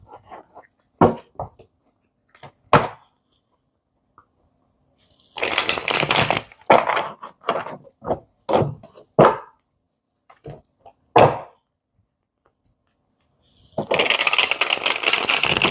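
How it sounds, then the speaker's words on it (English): A deck of tarot cards is riffled and shuffled in several crisp bursts with short pauses between, close by, ending in a longer sustained riffle. "Oh, that was a great shuffle."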